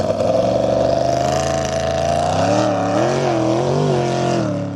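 Loud, droning crackerbox racing powerboat engines roar steadily, their pitch wavering and rising as the boats run.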